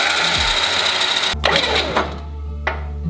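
An electric winch motor on a Jeep whirs with a steady mechanical drone that cuts off sharply, followed by a few clunks and a brief burst, close and moderately loud.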